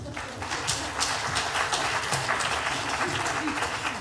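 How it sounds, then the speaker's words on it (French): Steady applause from an audience at a debate on energy self-consumption, dense clapping filling the room for several seconds, with some voices mixed in. "On peut les applaudir, allez."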